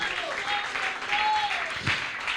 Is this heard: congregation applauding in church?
yes